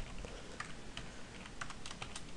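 Computer keyboard keys tapped while writing C# code in Visual Studio 2008, a fairly quiet run of irregular clicks over a steady background hiss, with no talking.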